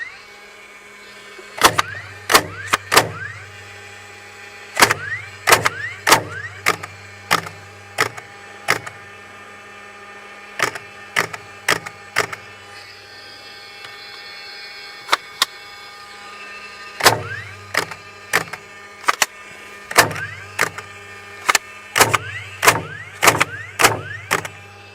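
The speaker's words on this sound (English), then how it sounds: "So I can pull the trigger to start the flywheel." A DeWalt DCF920 cordless framing nailer whirs as its flywheel spins up, then fires in sharp, loud clacks, grouped in rapid bursts with brief rises of motor whine between shots and quiet pauses between the groups.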